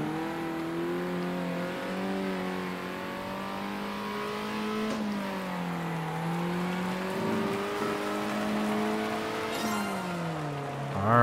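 Race car engine from the Circuit Superstars racing game, a steady loud drone with rising and falling pitch as it shifts gears and revs through corners, continuous and close throughout with no speech.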